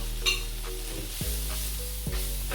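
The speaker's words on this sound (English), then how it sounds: "So I'm going to fry bit by bit." Beef fried rice ingredients with black pepper and curry leaves sizzle steadily in a pan while being stirred, with a few sharp scraping strokes standing out over the continuous frying.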